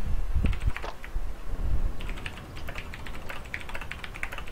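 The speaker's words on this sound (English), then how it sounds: "Joe, you stop typing." Keys clacking on a computer keyboard during a multiplayer strategy gaming session, irregular bursts of fast, close typing over low room rumble, with pauses between flurries.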